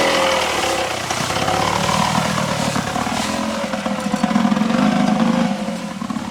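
Yankee 500 two-stroke twin motorcycle ridden off-road over small hills, its engine giving a loud continuous buzzing drone that swells and eases a little as the throttle changes.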